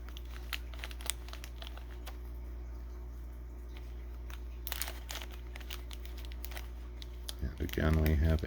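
Plastic packaging crinkles and tears in short irregular bursts as it is stripped off a 1/6 scale Snake Eyes action figure from ThreeZero, close and moderately loud, with a brief rustling flurry near the end.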